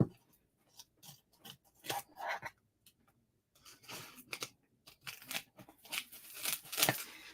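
Close, quiet snips and crisp cutting strokes of scissors through paper, coming in irregular bursts with short pauses between.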